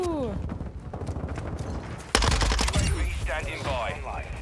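Rapid SMG fire in a shooter video game rattles in fast, close bursts, with a louder burst about halfway through and a voice talking over the shooting.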